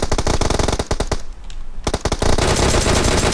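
Rapid automatic gunfire in PUBG Mobile, loud dense bursts of shots with a short pause partway, then another sustained volley.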